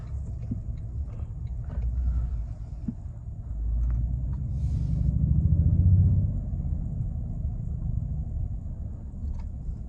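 A 2024 Toyota Tundra TRD Pro pickup launches off the line, its deep low engine rumble swelling and easing as it pulls away, heard from inside the cab without talking.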